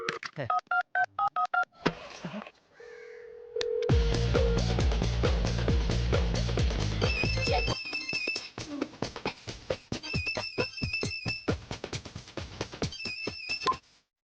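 Telephone keypad tones on a speakerphone sound as quick runs of short dual-pitch beeps, broken by a sustained tone and a low buzzing stretch, then further rapid bursts of dialing beeps close and loud.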